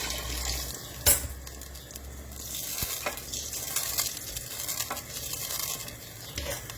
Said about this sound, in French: En ce moment-là, je vais mettre l'eau.